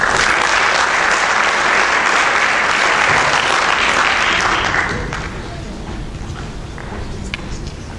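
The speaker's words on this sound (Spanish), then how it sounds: "Un aplauso." An audience applauds loudly for about five seconds at a children's animal fable contest, then the clapping fades to scattered claps and quiet room noise.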